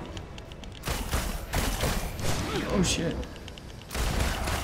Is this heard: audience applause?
no